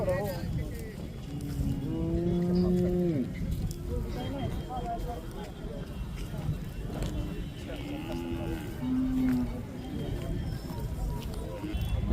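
A Khillar bull moos at a village fair, with two or three drawn-out lows, one long call near the start and a shorter one later, over a busy background of crowd noise.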